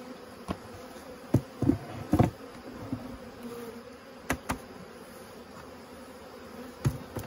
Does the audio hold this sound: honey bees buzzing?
yes